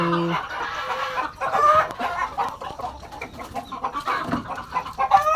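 A native chicken in a backyard clucks repeatedly, near and fairly loud, in uneven bursts of short calls with some faint farm background behind.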